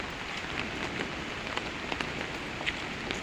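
Steady rain falls on surfaces nearby during a Diwali celebration, a dense, even patter with scattered heavier drops ticking through, and no voices.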